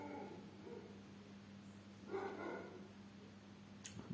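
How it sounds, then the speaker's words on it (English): Faint dogs barking in the distance outdoors, a few scattered barks over a low steady background hum. "Do you hear the dogs bark?"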